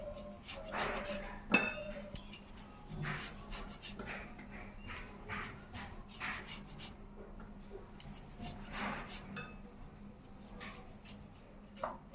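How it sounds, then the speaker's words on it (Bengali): Paneer cheese grated by hand: soft, faint rasping strokes repeat in an uneven rhythm, quiet and close, with a sharper scrape now and then. "আমি পনিরগুলাকে গ্রেট করে নিব"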